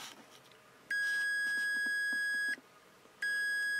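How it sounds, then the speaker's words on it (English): A Capacitor Wizard ESR meter with its test leads shorted gives two long, steady electronic beeps, the first lasting well over a second and the second starting after a short gap, clear and alone over faint room noise. "when you short the leads together on the capacitor wizard, there's a beep"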